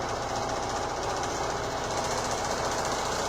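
A hands-free vibrating grinder runs on a table, making a continuous loud, buzzing rattle that sounds like a jackhammer. It stays steady and dense, with no pauses.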